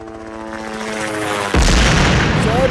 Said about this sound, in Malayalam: ബിൽഡിംഗിൽ ബോംബ് പൊട്ടി.